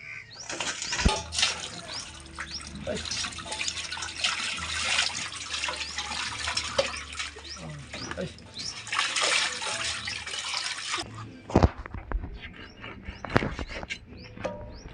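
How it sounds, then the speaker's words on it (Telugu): Chicken pieces are washed in water, with steady close splashing and sloshing for about eleven seconds, then a few sharper splashes and handling noises. "ఇలా నీట్గా మనం అయితే కడుక్కున్నాం కదా"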